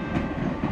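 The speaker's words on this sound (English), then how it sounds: "The same train rushing towards the holidays." A train rushes along the rails in the video game Holiday Express, a steady, dense rumble with rhythmic clatter that stays loud and even throughout, with no voices.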